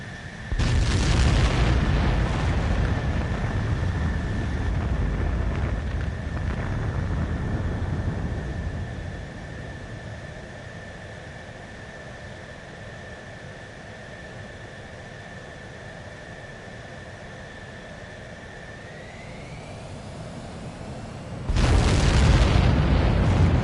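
Aircraft launch in a PS4 game: a loud booming roar at the start, a long steady engine whine with a sustained tone that rises near the end, then another heavy burst of roar.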